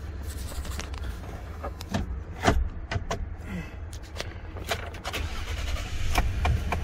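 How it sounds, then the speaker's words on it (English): A 2012 Ford F150 with the 3.5 liter engine and a dead dashboard cluster is started, a brief cranking burst followed by a low running rumble overlaid with scattered clicks and rattles nearby. "There you go, the car's on."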